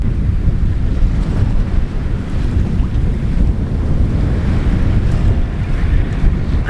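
A sailboat under way to Malta in good winds, with a continuous loud rush of wind and breaking waves that fills the whole stretch with no voices.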